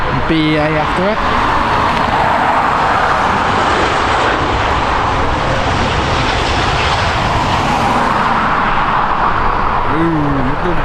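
A British Airways airliner roars past at Dublin Airport, its loud, steady jet engine noise filling the whole stretch, with brief chirps of birds at the start and end.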